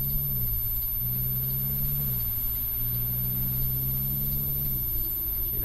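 A Peterbilt truck drives on a road in England, its engine a steady, low, continuous drone heard from inside the cab, even in level throughout.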